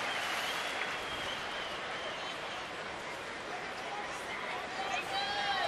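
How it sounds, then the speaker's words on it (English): Crowd applause and cheering in the stands at a Washington Nationals versus Houston Astros baseball game, a broad, steady roar of clapping and chatter under a commentator's voice. "And a round of applause from Pudge."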